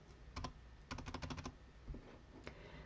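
Computer keyboard keys are pressed during accounting software data entry, including the F2 key: a few isolated clicks, then a quick burst of about seven taps and a couple of scattered presses, close and crisp with no talking.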